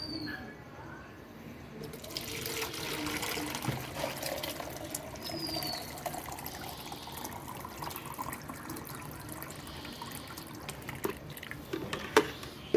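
Soaked homemade liquid fertilizer for hibiscus plants is poured through a strainer, giving a steady, moderately loud trickling and splashing of water that runs continuously, with a few sharper drips near the end.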